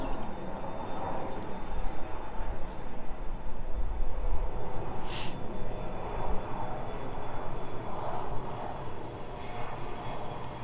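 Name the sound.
airplane flying overhead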